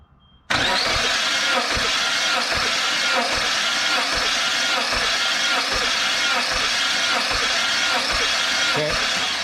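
A Suzuki SX4 engine cranks over on the starter during a compression test, a loud, steady churning with a regular rhythmic pulse from each compression stroke that runs on without firing, and someone speaks faintly underneath.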